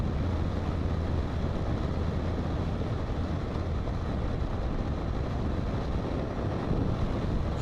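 Strong wind roars and buffets constantly against the microphone, a dense, unbroken rumble with no pauses.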